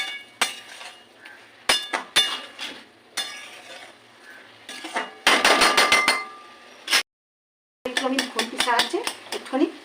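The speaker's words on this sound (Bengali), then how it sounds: "একটুখানি কষিয়ে নেবো আবার" Banana flower curry is stir-fried in a pan, heard as a close series of scraping strokes and metallic clinks of a spatula against the pan, in bursts with short pauses between them.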